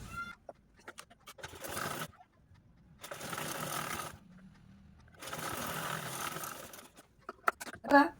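A sewing machine stitches piping in two long runs of rapid, even whirring, heard close and moderately loud and separated by quiet pauses, with scattered small clicks and handling sounds between runs.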